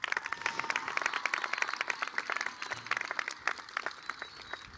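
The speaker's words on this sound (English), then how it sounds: "so please give them a round of applause." A group claps for school staff at a promotion ceremony, fairly close individual claps standing out in a lively, uneven rhythm that thins toward the end.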